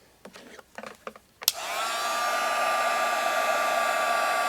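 A heat tool melting white embossing powder on a Christmas greeting card starts with a sharp click after a few faint handling taps, then blows a steady, close, whirring airflow to the end.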